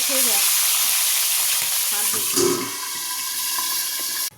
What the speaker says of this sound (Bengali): এই যে মাছগুলো সব ভাজা হয়ে গেছে